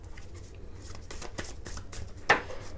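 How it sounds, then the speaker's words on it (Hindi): Tarot cards being shuffled by hand, a soft rustling and flicking of the deck in short bursts, with one crisper snap near the end, close and quiet. "कार्ड्स पहले ही शफल किए ही रहते हैं, बट फिर भी मैं आपके सामने शफल करना पसंद करती हूँ"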